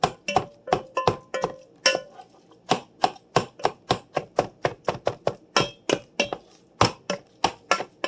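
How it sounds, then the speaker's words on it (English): Canned sliced potatoes being mashed in a pot or Dutch oven, a steady run of sharp, evenly spaced knocks and clinks from the masher striking the bottom, about two or three per second, with no talking. "mashing these potatoes like this is so therapeutic"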